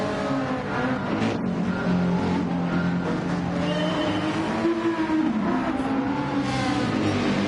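Race cars in Gran Turismo roar off the start, several engines revving hard and overlapping in a loud, continuous surge, with pitch rising and falling as they accelerate.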